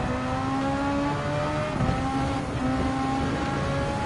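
Super Formula SF23 race cars in Gran Turismo 7 at Watkins Glen, engines wailing at high revs in a steady, overlapping whine as several open-wheel cars run close together, loud and continuous with slight pitch shifts.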